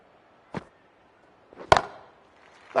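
A cricket bat strikes the ball as a batter in a Pakistan vs New Zealand match opens the face and lofts it over square for a six; a soft knock comes first, then one loud, sharp crack with a short ringing tail, close and clear.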